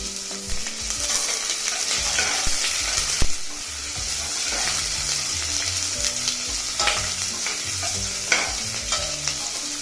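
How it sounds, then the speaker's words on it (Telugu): Sliced onion and green chilli slits frying in hot oil in a pan, a steady dense sizzle with occasional stirring scrapes, close and loud throughout, no voices. "పచ్చిమిర్చి చీలికలు వీటిని దోరగా వేగనిద్దాం"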